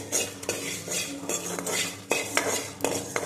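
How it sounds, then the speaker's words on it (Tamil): Coriander seeds and two dried red chillies dry-roast in a pan. A spoon clatters and scrapes against the metal in quick, irregular strokes over a light background hiss. "ஒரு பேனில் வர கொத்தமல்லி கொஞ்சமாக, வரமிளகா 2 போட்டு நல்லா வறுக்கணும்"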